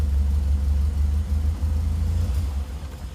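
A Morris Minor 1000 vintage car engine runs just after start-up, a steady, loud low-pitched rumble that holds evenly throughout, idling close by with a slight dip near the end.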